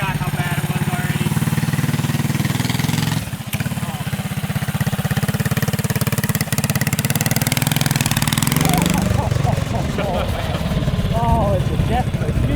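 A 10HP mini quad's engine runs hard during a top speed run, a loud, continuous buzzing drone that rises and wavers before easing off, while people shout and talk excitedly over it.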